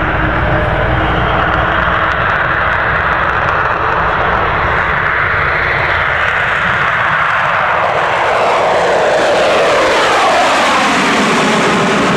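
Avro Vulcan XH558 jet bomber taking off at the Farnborough International Airshow 2012, a loud, continuous roaring engine rush that builds and shifts in pitch as the aircraft passes, with no speech.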